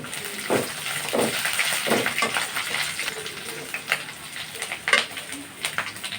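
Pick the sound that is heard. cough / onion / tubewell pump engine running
onion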